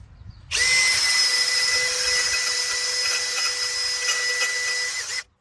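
A 2mm bit drills roughly an eighth of an inch into a metal sway bar clamp on a KDSS front sway bar, giving one steady high whine for about five seconds, close and loud, starting and stopping abruptly, with no talk.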